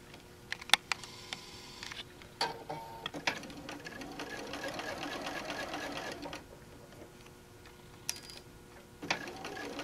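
Sewing machine stitching a quilted tote bag runs in short bursts with clicks and pauses between, the motor whirring close up while a person talks quietly in between.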